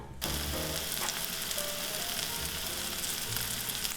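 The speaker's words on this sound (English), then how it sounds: "throw all the green onion to the oil before the oil is hot. Stir fry them until they are fragrant." Green onions stir-fry in oil in a pan, giving a steady close sizzle with crackling and occasional stirring scrapes, continuous and fairly loud with no voices.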